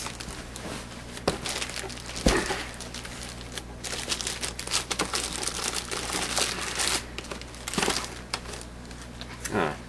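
Crinkling and crackling of plastic packaging wrap being peeled off an Xbox 360 Elite box, continuous close rustling with sharper tearing snaps scattered throughout.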